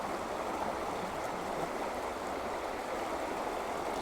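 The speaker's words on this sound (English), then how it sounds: "We've got a riffle and it cuts against this bank" Steady rushing flow of a shallow river riffle cutting against a bank, a continuous close, even wash of water with no pauses.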